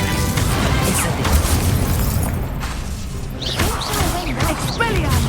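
Incendio fire spell casts in Hogwarts Legacy, loud booming whooshes and crashing bursts packed together amid combat effects, with a voice talking over the action.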